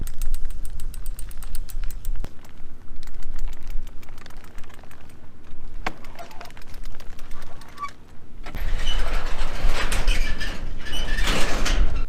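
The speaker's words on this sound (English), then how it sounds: "That means rolling the sides down on the greenhouses and closing the big doors." Large greenhouse doors and sides on a vegetable farm are rolled and slid shut, producing sustained rumbling and rattling with clicks, swelling into a louder scraping, grinding closure toward the end.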